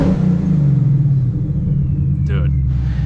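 A boosted Ford Mustang with an AWE Track exhaust and catted long-tube headers idles with a heavy, loud rumble nearby, its pitch easing down after a rev.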